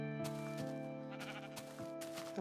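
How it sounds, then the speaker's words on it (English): Sheep bleating in Minecraft, a couple of quavering, nasal bleats that rise and fall, heard quietly with no talk over them. "Hey, a sheep."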